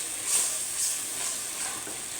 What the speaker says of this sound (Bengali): ভেন্ডিটা একটু চিংড়ি মাছের সাথে কষিয়ে নিই